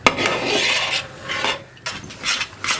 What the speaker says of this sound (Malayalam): ഹൽവ ഇളക്കി കൊടുത്തുകൊണ്ടേ ഇരിക്കുക, സൈഡൊക്കെ ചേർത്ത് ഇളക്കി എടുത്തുകൊണ്ടേ ഇരിക്കുക